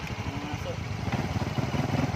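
A Honda Supra motorcycle climbs a hill on the way to a beach in Tulungagung, East Java: a close, modest putter from the small engine pulsing rhythmically and growing slightly louder under effort.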